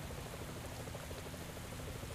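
Rain in the cycling game Pro Cycling Manager 2018, a dense, steady hiss of falling drops and patter, quiet and continuous with no talk.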